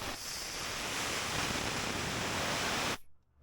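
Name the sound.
compressed air blowing from an air hose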